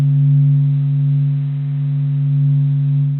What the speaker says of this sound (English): we listen to several different sounds made by the sun, recreated through clever science